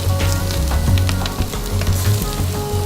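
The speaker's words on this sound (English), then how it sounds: "bacon on the grill as well." Bacon sizzles and crackles loudly on a barbecue grill over burgers, a steady, close frying hiss with scattered pops and no talking.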